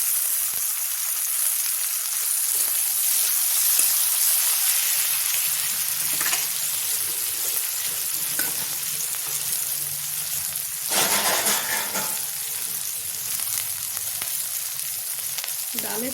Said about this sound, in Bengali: কেটে রাখা টমেটো দিয়ে দিচ্ছি।